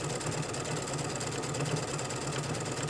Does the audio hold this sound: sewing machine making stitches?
yes